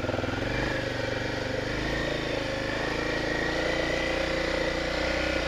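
A Tornado 250 motorcycle engine runs continuously through thick mud, loud and close, holding a steady rough drone with no speech over it.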